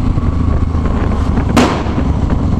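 A single firecracker bursts with a sharp crack in the middle, heard over a loud, constant background roar outdoors.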